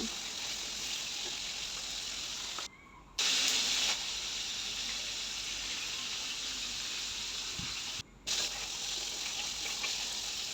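Fish frying in mustard oil gives a continuous near hiss and sizzle, cut by two short gaps, with no talking.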